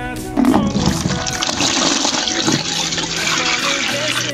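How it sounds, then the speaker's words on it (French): Warm water poured into a bucket, with a loud close gush and splashing that settles into a steady filling sound. "Je vais ajouter de l'eau tiède à l'intérieur."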